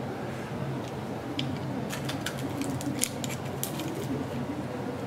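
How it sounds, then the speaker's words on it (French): Plastic excess trimmed with a cutter beside a snap ring on a bolt assembly: a handful of short, crisp snips and clicks clustered in the latter half, close and fairly distinct over a steady background hiss. "Puis on vient juste couper l'excédent aussi de l'autre côté."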